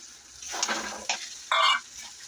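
Green peas drop into a pan of sizzling masala spiced with garam masala. Each addition sets off a short burst of frying hiss, and the last burst is loudest and sustained before it fades.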